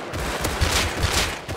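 Rapid bursts of video game gunfire in a combat shooter, a dense crackling volley of several shots close together, loud and continuous across the moment with no talk over it.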